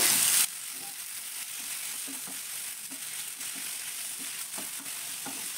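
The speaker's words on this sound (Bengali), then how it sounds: "চিকেনটাকে আমি এবার রান্না করে নেব।" Chicken fries in a pan with a steady, close sizzle throughout, a brief louder burst at the start and faint scraping or stirring taps beneath the hiss.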